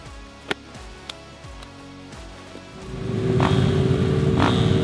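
KTM 790 Duke and Kawasaki Ninja ZX-6R motorcycles at a drift battle: a few sharp clicks and low idle thumps give way to an engine climbing into a loud, sustained rev nearby.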